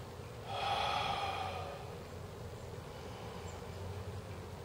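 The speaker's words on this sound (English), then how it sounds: "So when we do the Buddhist style breath" Buddhist-style breathing: one long, forceful breath pushed through the nose and mouth swells up near the start, then fades into a soft steady hiss of air and low room noise.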